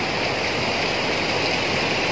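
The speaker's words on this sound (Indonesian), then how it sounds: "derasnya banjir lahar dingin dari arah Semeru" Cold lahar flood water from Semeru volcano rushes past damaged houses, a loud, dense and unbroken roar of turbulent water filling the whole scene with no voices.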